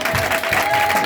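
A congregation at a French-language church service breaks into applause, a steady, loud wash of clapping filling the room for the whole moment.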